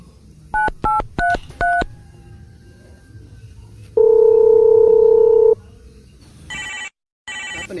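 Phone keypad tones sound in four short, loud beeps. A long steady tone follows, then a brief pause and repeating higher ring tones.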